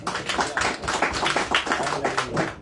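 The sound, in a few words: congregation clapping loudly in church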